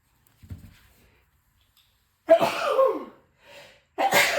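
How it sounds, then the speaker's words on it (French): A short sharp sneeze bursts out after a quiet breath, followed by a softer sniff and a second burst near the end. "J'ai l'impression que je vais éternuer."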